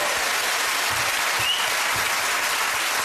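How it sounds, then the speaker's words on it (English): Audience of about 600 people applauding in a studio: steady, dense clapping from a large crowd, continuous and loud throughout with no talk over it. "One of these has never had a round of applause from 600 people"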